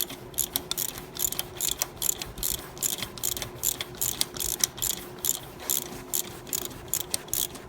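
A thumb ratchet clicks in quick, steady bursts, with short pauses between each run of sharp metallic ticks, close and fairly quiet, as a bolt is turned on a Jeep Wrangler JK during idler pulley and serpentine belt work.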